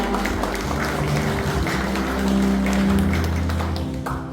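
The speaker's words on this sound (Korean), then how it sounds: "여러분 힘찬 박수로 좀 맞아주시기 바랍니다" A crowd at a photo exhibition opening claps steadily in a dense, loud round of applause welcoming the Daegu mayor, sustained throughout with no gaps.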